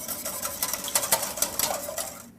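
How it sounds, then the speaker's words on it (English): A whisk scrapes and clicks rapidly against a pan as turkey pan juices are worked into gravy, a steady close-up rattling rhythm that stops abruptly at the end. "Now I'm just going to whisk those yummy juices right into the gravy."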